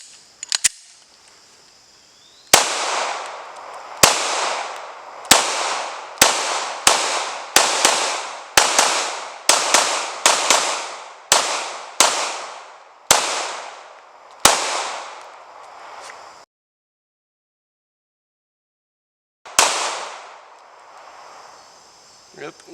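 A series of about fourteen sharp pistol shots from a Glock 19 Gen 6 fed from KCI magazines, fired at an uneven pace with short echoing tails, then a pause before one final shot.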